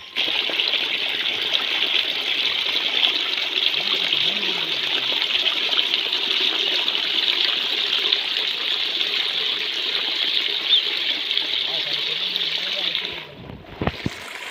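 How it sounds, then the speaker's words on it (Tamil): Rainwater pouring over a bridge in a village, a loud, steady rushing flow that continues unbroken for most of the clip before it briefly dips and is disturbed near the end. "இவ்வளோ ஒரு நீர் அழகாக வடிக்குது பாருங்கள்"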